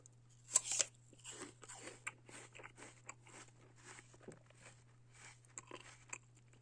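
Crunchy Ligol apple, stored in a cool humid cellar, bitten and chewed close up: a sharp crisp bite followed by steady soft crunching and chewing, with a constant low hum underneath.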